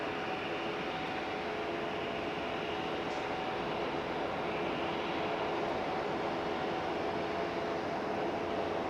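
Qatar Airways Airbus A350-1000 airliner arriving at LAX, a steady broadband jet roar holding evenly throughout at moderate distance, with no voices.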